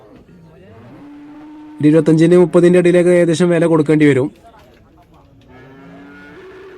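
At the Cholakkal cattle market, a cow lets out one loud, drawn-out moo lasting a couple of seconds, close by, with someone talking before and after it.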